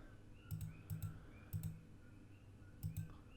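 Quiet mouse clicks while a seascape landscape photo is edited on a computer, sharp double clicks coming in four small bursts, close and faint, with no talking.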